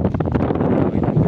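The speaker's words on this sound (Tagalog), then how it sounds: "Ang lakas ng hangin." Strong wind gusts buffet the microphone at a hillside cafe in the late afternoon, giving a steady, loud, rumbling roar throughout with no other sounds.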